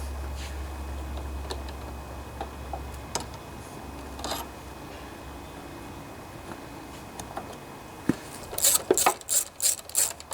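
A ratchet tightening parts on a Honda HRB 215 lawnmower with a plastic deck, heard close up as faint clicking strokes that build into a quick run of louder, sharper clicks near the end.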